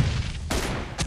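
Sniper rifle shots in a team deathmatch video game: two sharp, loud cracks, one midway and one near the end, each trailing off briefly over a steady background of game noise.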